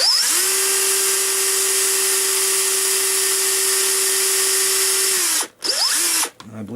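A small drill boring through wood runs loud and continuous for several seconds at a steady high whine, then stops, followed by a brief restart and a soft clunk.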